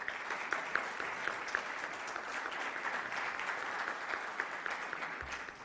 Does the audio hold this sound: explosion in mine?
no